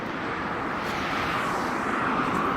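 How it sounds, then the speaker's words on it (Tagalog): A fixed-wing airplane drones overhead during an outdoor walk, a continuous loud broadband roar with a slowly shifting pitch and no talk. "Nakita ko na may aeroplano."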